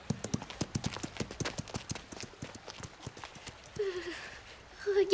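Horse hooves clip-clopping in a cartoon, a steady run of distinct close hoof beats, followed by brief voices speaking near the end.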